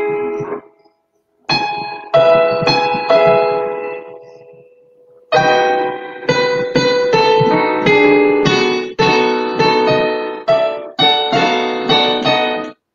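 Halting piano playing by a learner still learning the notes, notes and chords struck unevenly with pauses and gaps between phrases, clear and close with no talking.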